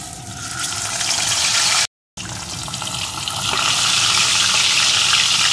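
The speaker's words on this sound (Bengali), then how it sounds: "এখন মুড়োটাকে দিয়ে ভেজে নেব।" Rohu fish head frying in hot oil, a dense, continuous crackling sizzle that swells slightly louder after a brief cut in the sound.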